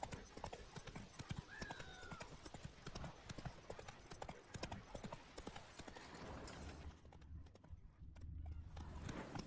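A horse's hooves clip-clop steadily on the ground in The Witcher 3 video game, close and rhythmic, with a brief whinny and game ambience and music beneath.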